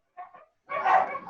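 Dogs bark at a neighbouring house: a short faint yip followed by a longer, louder bark, heard from a distance in an otherwise quiet room.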